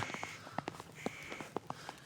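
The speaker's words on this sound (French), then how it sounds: "on entend un oiseau là-haut" A bird calls repeatedly from a tree overhead, sharp cawing notes in an uneven series, moderately distant in a quiet snowy outdoor setting near the Arolla Glacier in Switzerland.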